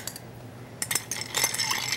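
Ice cubes clink and knock into a martini glass in a few bright, close bursts after a quiet start, with no talking.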